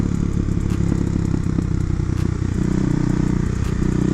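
A 2009 Kawasaki KLX250SF motorcycle engine idles steadily up close, with a dense, continuous rumble and irregular crackling pops from slight backfiring as the jetting needs tuning.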